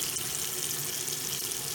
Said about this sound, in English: So I'm going to turn the hot water on.